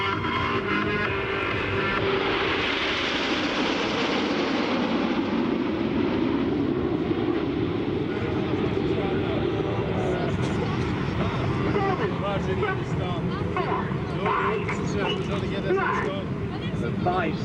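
Red Arrows jets flying in formation at an air show roar steadily throughout, a loud continuous engine rush that swells and shifts as the aircraft pass, with commentary heard over it.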